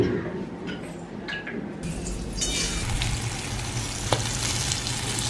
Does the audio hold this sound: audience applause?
no